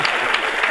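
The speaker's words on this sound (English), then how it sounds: "Round of applause for potheads." Brief burst of audience applause from a live interview crowd, a dense, steady wash of clapping that stays fairly loud and even throughout its short span.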